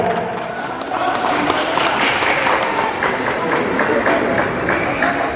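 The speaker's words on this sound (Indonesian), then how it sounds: "Ya, silakan tepuk tangan." Steady applause from a large crowd fills the whole stretch, dense and continuous, with scattered cheers mixed into the clapping.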